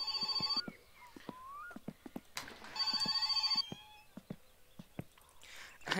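A telephone in the video game My Summer Car rings in two bursts of electronic trilling, separated by sparse clicks, thumps and small noises at moderate level.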